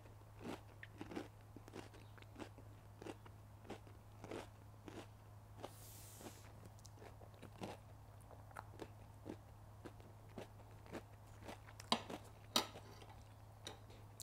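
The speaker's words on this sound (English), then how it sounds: "you've got the amazing texture of the panko breadcrumbs, which are so crunchy. You probably picked up on the mic" Repeated crisp crunching bites of panko-breaded chicken katsu curry served on rice with sauce, sharp close bursts at a steady chewing rhythm, with light cutlery clinks over a low steady hum and no talking.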